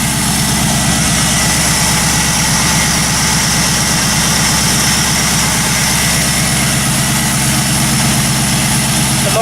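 A Chevrolet LS V8 idles steadily and loudly, a continuous low rumble with no pauses and no voices over it.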